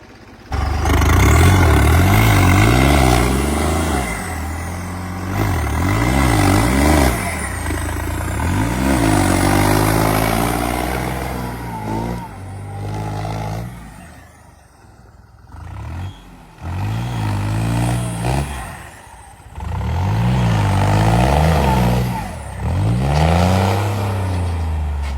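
A tractor fitted with Tochan King tires revs hard while stuck in a muddy field, its engine repeatedly surging up and dropping back in loud, close bursts, dipping briefly to near idle midway before revving again.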